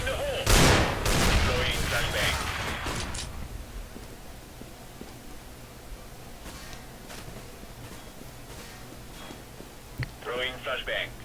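Gunfire from the shooter game CS:GO, including a Desert Eagle pistol: a cluster of loud shots at the start, then fainter scattered shots over a steady hum, with a short burst near the end and game voice chatter mixed in.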